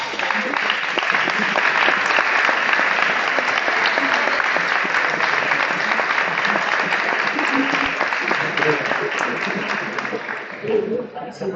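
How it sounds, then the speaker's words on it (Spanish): At the final of an educational debate tournament and awards ceremony, the audience gives a long, full round of applause that holds strong for several seconds before thinning and tapering off near the end. "yo creo que se merece también un gran aplauso"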